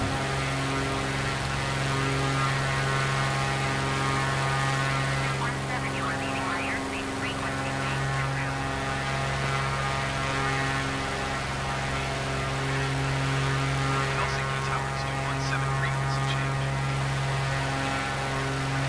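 Steady, loud cabin drone inside a light aircraft in flight, a constant engine and propeller hum with strong tonal layers, and a voice talking faintly over it.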